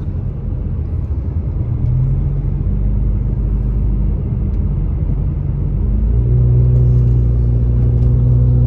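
A car rumbles along a snowy, potholed road in Big Bear, the steady low road noise swelling louder and deeper in the last few seconds as it passes close by.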